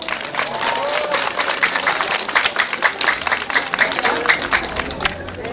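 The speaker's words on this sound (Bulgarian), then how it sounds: "Нека чуя вашите аплодисменти." A crowd applauds at a village fair in Golesh, with steady dense clapping that runs throughout, close and loud, with a little voice babble mixed in.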